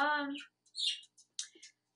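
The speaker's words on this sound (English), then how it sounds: "My favorite sounding bird of the ones I have" A bird's short high chirps and whistled calls come in a few quick bursts with gaps between them, after a brief low voiced sound at the start.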